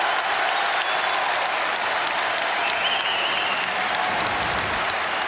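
A packed college basketball arena crowd roars and cheers loudly and continuously during a Michigan State at Rutgers Big Ten men's game, a dense sustained wall of noise with no talk over it.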